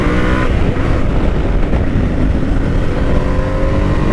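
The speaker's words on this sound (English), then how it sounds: "I'm riding his Tenere 700, which I do love" A Yamaha Tenere 700 motorcycle being ridden on the road, its engine droning loud and continuous with steady rumble and wind noise throughout.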